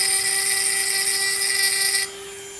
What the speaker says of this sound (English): I have a diamond core drill bit, so I sand it